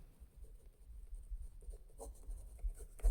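Pen or chalk scratching out an equation by hand during a Class 10 maths lesson, faint and close, with soft irregular strokes and a few taps over a quiet room.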